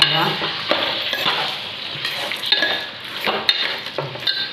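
Steady sizzle of chicken curry cooking in a pot while a spoon stirs in rock salt, with scraping strokes and light clinks of metal recurring close by.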